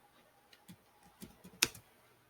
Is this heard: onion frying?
no